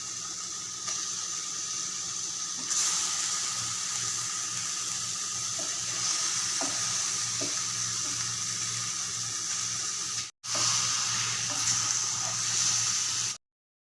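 Eggs frying in masala with coriander powder in a pan for egg curry, a continuous hissing sizzle with a brief sharp drop near the end, no voices.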